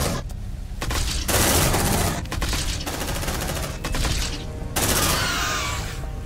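Sustained gunfire in Aliens: Dark Descent, a squad of marines pouring automatic fire in loud, dense volleys with brief gaps, close and forceful over a noisy battle.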